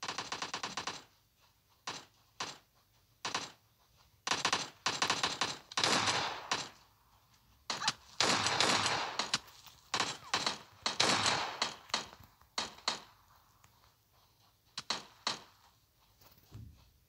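Video game gunfire in repeated sharp bursts and rapid automatic volleys, loud and close, with short pauses between strings of shots and little talking.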